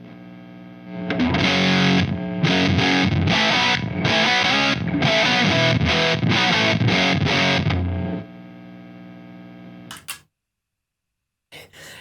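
High-gain distortion pedal on an electric guitar with the noise gate switched off, the buzzing, saturated signal playing loud for about eight seconds in choppy bursts, then cutting off to near silence with a couple of faint clicks.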